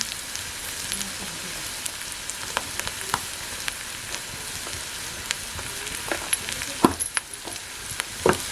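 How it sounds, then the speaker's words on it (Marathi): Spices with turmeric and red chilli powder sizzle steadily in a pan on a village wood-fired chulha, with faint crackles and occasional stirring clicks, sitting close and moderately quiet with no talk. "परतून घेऊया परतून घेतले मसाले"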